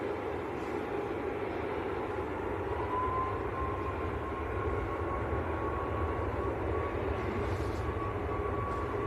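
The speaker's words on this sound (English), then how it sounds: "What a beautiful aircraft that is." A jet airliner rumbles steadily at Manchester Airport, a low continuous engine roar with a faint whine that holds at an even, moderate level throughout, with no talk.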